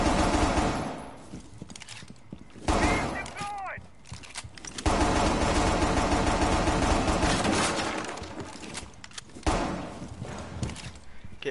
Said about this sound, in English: this gun sounds fucking whack